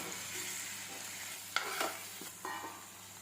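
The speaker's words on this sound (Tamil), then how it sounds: "இப்போ இதில் நம்ம கொஞ்சமாக வச்சுருக்க தேங்காயும் சேர்த்து வதக்கிக்கிறோம்" Onion, tomato and grated coconut sauté in a pan for a fish curry gravy, giving a steady close sizzle with a few sharp scraping stirs of a spatula and no talking.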